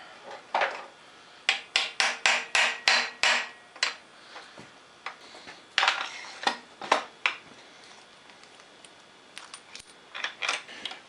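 Metal motorcycle part being tapped into place after being turned down with a small shoulder, during a vintage motorcycle custom dual sport build: a quick series of sharp, ringing metallic taps, then scattered louder knocks, close and without talk.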